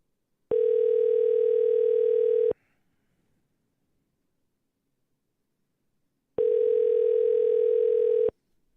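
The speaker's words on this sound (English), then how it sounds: "We've got ringing." Two long, steady electronic ringback tones, each about two seconds, separated by a pause of several seconds of silence.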